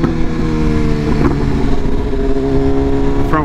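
A BMW S1000RR motorcycle accelerates hard on the Manhattan Bridge with its front wheel lifting, a loud, close, steady engine roar rising in pitch, with wind rush throughout and a gear change near the end.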